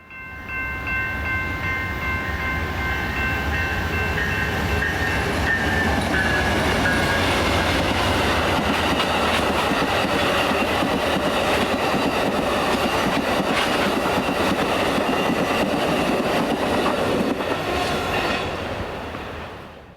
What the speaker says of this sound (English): Amtrak number 6, the eastbound California Zephyr, flying past